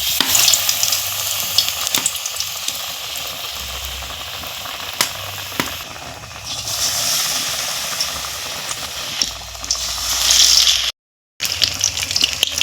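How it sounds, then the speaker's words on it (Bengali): Tomato chops dipped in batter sizzle steadily in hot oil in a pan, a loud continuous fry with occasional stirring clicks and a brief dropout near the end. "চপগুলো কড়াতে দিয়ে দিয়েছি। আর এখন তেলে আমি হালকা আছে ভেজে নিচ্ছি"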